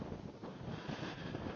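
Wind roaring at sea aboard the Sodebo racing trimaran during a Jules Verne Trophy round-the-world record attempt, a loud steady gusting rush buffeting the microphone, with no talking.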